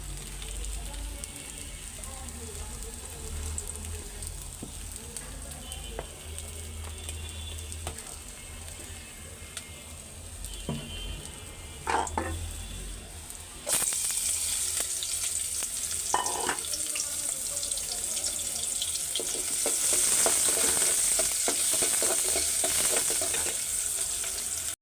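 Vegetable curry frying in a hot wok, a low sizzle with scattered clinks of stirring that swells into a louder, brighter hiss partway through, close and continuous with no talk.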